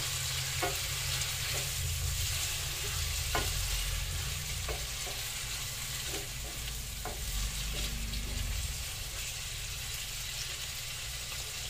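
Marinated pork for humba sizzles steadily in a pan, a dense, close frying hiss punctuated by repeated light taps and scrapes of a spatula stirring it, with no voices.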